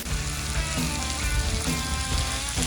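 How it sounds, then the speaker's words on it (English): Bourbon cream sauce bubbling back up to a boil on a hot grill, a steady close crackling sizzle with dense popping throughout, grill noise all along and no talk. "I'll get this back up to a little bit of a boil so that it can"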